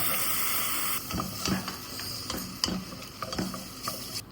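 Milk stirred into sautéed maida flour in a pan, with a steady sizzling hiss and soft scraping stir strokes recurring every second or so, close and moderately quiet.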